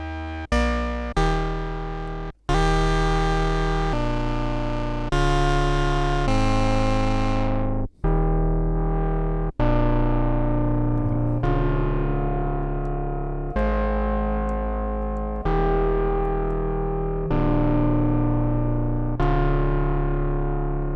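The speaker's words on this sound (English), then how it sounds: "We've got 3 oscillators and we can listen to all 3 of them at once." Buzzy analog synthesizer tones from a Moog Grandmother's three oscillators play a series of sustained, harmonically rich notes, each starting abruptly and fading, loud and close with no talking.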